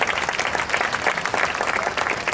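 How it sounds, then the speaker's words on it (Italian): Steady applause from an audience at a film festival award ceremony, dense continuous clapping that stays even and fairly loud throughout. "Un applauso anche alla signorina."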